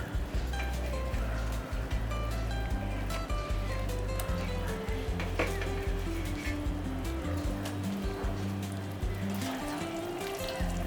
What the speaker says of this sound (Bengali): তেঁতুল জলটা ফুটে গেছে, এবার মাছগুলো দিই